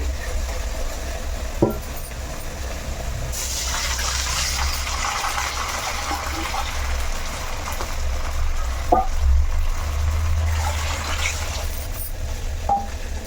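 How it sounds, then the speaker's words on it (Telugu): Water is poured into a cooking pot for rice rava upma, two cups of water for each cup of rava, with a soft gushing fill starting a few seconds in over a low background rumble. "ఒక దానికి రెండు గిన్నెలు వాటర్ వేసుకోవాలి"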